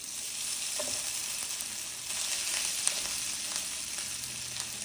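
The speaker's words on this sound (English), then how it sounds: "I've got a skillet going here with enough olive oil to coat the bottom of the pan, and I'm just going to toss these potatoes right in" Potatoes hiss and crackle steadily in a skillet coated with olive oil. The sizzle is close, dense and fairly even, with a few brief pops and no voices.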